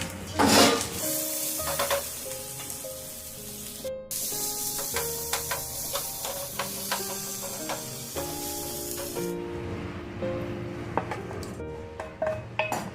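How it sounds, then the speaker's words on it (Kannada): Tomato and coconut pieces frying in a pan, a sizzle with frequent metallic clinks and scrapes of a spoon against the pan, the sizzle dropping away toward the end. "ಫ್ರೈ ಮಾಡೋಣ"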